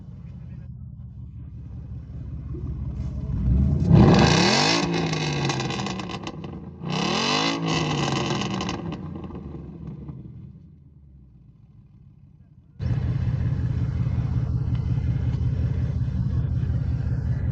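A Ford Mustang's big engine rumbles while driving, swelling into two loud revving pulls with rising and falling whine, dropping to a low idle, then settling into a steady cruising drone.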